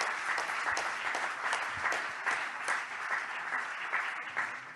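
An audience at a pool and spa trophy ceremony applauds a silver award given to Piscinelle, steady applause from a hall crowd, moderately distant, with no talking.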